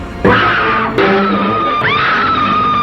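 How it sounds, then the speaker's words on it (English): A woman screams in a King Kong film scene: a loud, high sustained wail that breaks off and then rises again into a second long cry, alone with no speech. "all she does around Kong is scream"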